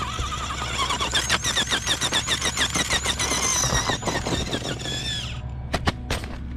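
An Axial UTB18 RC truck fitted with a Furitek brushless motor and running on a 2S pack drives and climbs over rocks, giving a whining electric motor tone that rises and falls in pitch in quick bursts and ends with a few sharp knocks.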